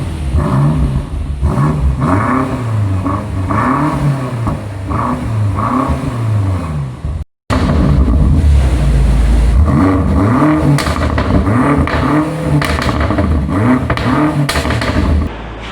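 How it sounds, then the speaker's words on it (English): BMW M5 Competition twin-turbo V8 revving close by, repeated rising and falling throttle blips in two runs split by a brief cut, the second louder and deeper, with sharp exhaust pops between revs. "you saw the car first in efficient mode and then in Sport Plus, where it absolutely was popping and banging"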